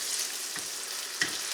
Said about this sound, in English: Then we're going to saute the rice until all of it is colored with the soy sauce.